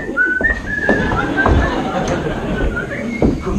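Someone whistles short, thin, wavering notes during a stage performance of a Feydeau farce, fairly faint against a murmur of room noise and brief thumps.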